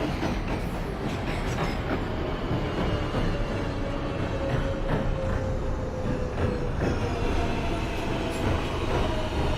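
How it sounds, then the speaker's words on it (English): A NYC Subway R143 J local train runs in the OpenBVE simulator game, with a steady loud rumble, rhythmic wheel clatter and a faint squeal riding over the continuous roar. "This is a Queens-bound J local train."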